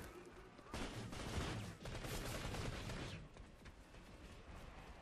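Dense bursts of gunfire rattle through an infantry training combat video game, a sustained crackling barrage of overlapping shots with rapid repeated reports, loud and continuous before easing slightly toward the end.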